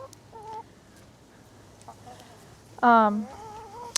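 Chickens cluck softly nearby, with one louder, sharper squawk near the end, amid quiet background noise.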